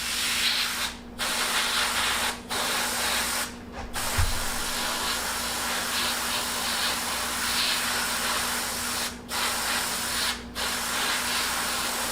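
An airbrush sprays paint onto a deer mount in a steady, close hiss, with a few short breaks where the trigger is released.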